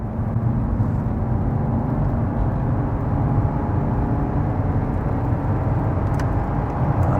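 A Mercedes 190 2.5 diesel accelerates at full throttle on a 50 mph bypass, its engine a dense, steady low drone heard from inside the car without voices.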